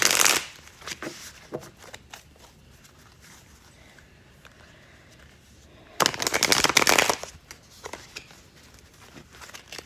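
Two bursts of rapid riffling as a deck of cards is shuffled, close up, with quieter card handling and pauses between.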